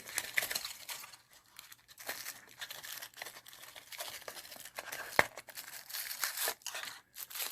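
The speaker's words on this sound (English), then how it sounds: "Plastic bags of goodies." Plastic bags from a Hellvape MD RTA vape tank package are handled up close, with quiet, irregular crinkling and rustling and one sharp snap partway through.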